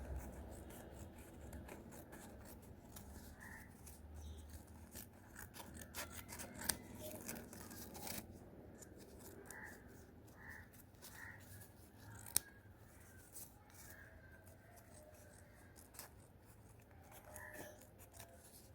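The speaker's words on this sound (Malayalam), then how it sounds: "ഇനി ഇതിൻ്റെ ഈ 4 സൈഡൊന്ന് കട്ട് ചെയ്തെടുക്കാം." Scissors snipping around the four edges of tissue paper for a handmade paper flower, close and quiet, with soft rubbing paper rustle and a few sharp clicks of the blades throughout.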